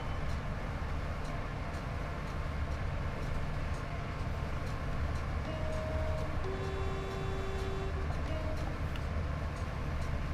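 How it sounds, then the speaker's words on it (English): Train in a train simulator game running along the line, a steady loud low rumble with rattling and clicking from the cab, plus a few brief faint tonal beeps, with no talk. "The train is bouncing quite a bit."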